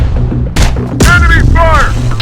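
Loud booming shots and heavy weapon fire from a firefight in Terminator: Dark Fate – Defiance, a couple of sharp blasts over a rumbling battle bed with warbling mechanical whines between them.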